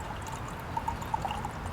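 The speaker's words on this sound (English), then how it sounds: "So you just kind of pour the water out." Hibiscus tea with steeped flowers is poured out of a jar in a soft, continuous trickling stream with small splashy gurgles, fairly quiet and close.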